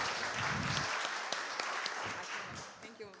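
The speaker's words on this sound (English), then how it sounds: "give applause to Case Rule" Audience applause in a conference hall at an agile event, a broad wash of clapping that fades gradually, with a voice speaking over it.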